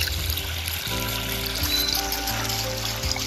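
Water runs from a pipe at a trek campsite near a small mountain village, a steady trickling and splashing stream heard close by, continuous throughout with a faint low hum beneath.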